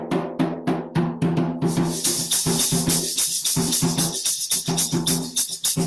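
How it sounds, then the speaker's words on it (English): Bomba sicá rhythm played on Puerto Rican bomba drums, a fast, steady pattern of hand strikes with bright cymbal-like shimmer over the groove, loud and close with no talking. "Bomba sica sounds like this."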